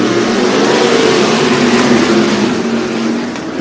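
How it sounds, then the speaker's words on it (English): Limited sprint race cars roar through a main event start at a dirt track, a dense, loud, sustained engine drone from a pack of cars at middle distance, with no voices over it. "Your limited sprint main event is racing."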